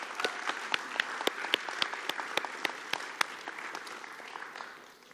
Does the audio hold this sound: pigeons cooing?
no